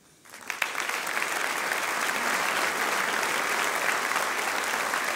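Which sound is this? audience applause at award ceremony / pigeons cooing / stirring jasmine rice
audience applause at award ceremony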